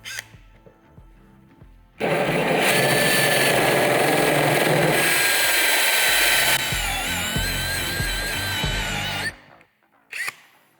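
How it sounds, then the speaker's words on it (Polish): A power drill spins a hole saw through a Franke kitchen sink at high speed, a loud sustained grinding whine lasting several seconds before cutting off, with a brief burst afterward. "Instalujemy to w wiertarce. E, I generalnie na wyższych obrotach, bez jakiegoś większego nacisku, wykonujemy ten otwór."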